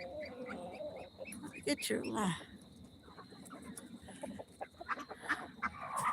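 Chickens and a rooster named Gary on a farm, with short clucking and crowing-like calls scattered through the clip under a person talking fairly close by.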